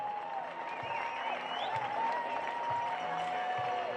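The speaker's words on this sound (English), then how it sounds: "Let's give this one a big round of applause." Rodeo audience applause rolling steadily through an outdoor arena at a youth horsemanship event, moderately distant, with a whistle and an announcer's voice carrying over the crowd.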